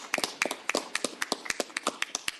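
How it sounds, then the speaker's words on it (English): A small audience at a board of trustees meeting gives a short round of applause, the claps sparse and fairly quiet, sounding like a handful of people rather than a large crowd. "Okay, one last applause."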